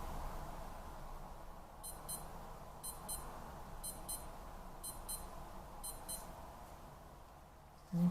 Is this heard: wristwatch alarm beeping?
yes